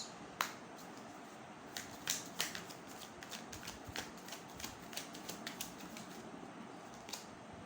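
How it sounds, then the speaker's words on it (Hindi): Tarot cards are drawn one by one from a deck during a reading, giving a string of soft, crisp card snaps and shuffling flicks in an irregular rhythm, fairly quiet and close, with no speech. "पहले मैं तीनों कार्ड्स निकाल लूँ"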